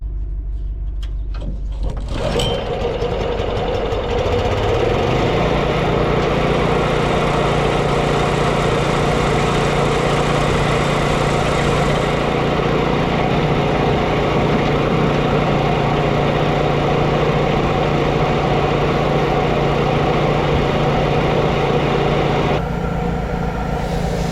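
An engine-driven air compressor runs steadily at close range while airing up a tire on a farm, a constant loud motor drone with a sharp start at the beginning that drops off near the end.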